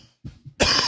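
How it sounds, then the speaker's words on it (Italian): Two or three short, low coughs, then a louder, harsher burst of coughing close by. "Mi è venuta la tosse."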